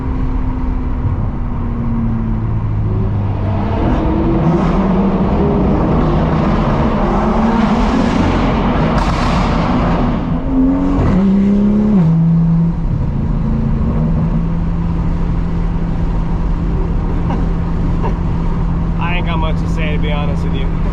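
A sports car engine revving hard through two downshifts, loud and close, with the pitch climbing and dropping as the gears change and a steady road roar underneath; voices are heard over it.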